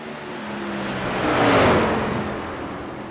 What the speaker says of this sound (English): Lap number 1 for Drevnovsky is underway